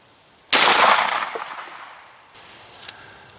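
A single loud, close shotgun blast as a slug is fired at a target outdoors, a sharp crack followed by a decaying echo that fades out over a couple of seconds.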